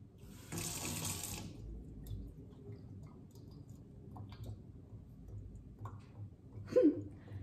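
Tap water runs into a sink for about a second, a short steady gush, then stops, leaving quiet room tone with a few small handling clicks and a brief squeak near the end.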